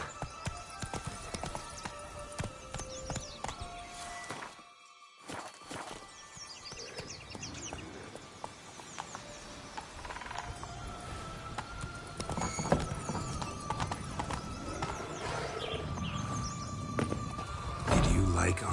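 Hooves of the horse Roach clip-clop steadily through The Witcher 3's Toussaint, with a whinny partway through, under game music and ambience, while voices talk in between.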